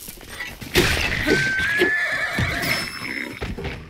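A horse in the video game The Legend of Zelda: Tears of the Kingdom gives a loud, close, drawn-out whinny with a couple of snorts, followed by a few hoof clops.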